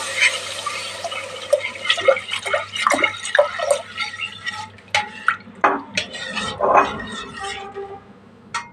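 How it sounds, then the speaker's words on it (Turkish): Water poured from glasses into a pot of rice tarhana soup splashes and gurgles in a busy, close run of liquid pours and drips, with light clattering throughout. "burada 4 su bardağı su var. Onu ilave ediyorum."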